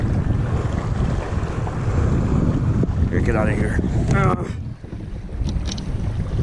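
Wind-driven waves slap against a fishing boat near the dam on Lake Sonoma during a wind storm, with steady wind rumble and water wash throughout and a brief voice partway through.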